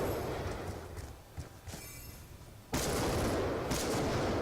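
Gunfire in Call of Duty on the Nuketown map, dense and noisy, with a loud burst of shots starting partway through over continuous game ambience.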